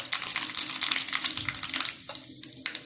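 Mustard seeds and cumin dropped into hot oil crackle and sizzle close by, a dense burst of popping that thins out into a few scattered spits near the end.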